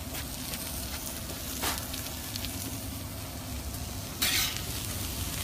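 Onions sweating in a pan next to ribeye steaks give a steady, close frying sizzle that runs throughout, with a couple of brief, brighter hissing flares. No voices are heard.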